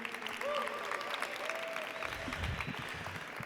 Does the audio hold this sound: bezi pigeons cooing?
no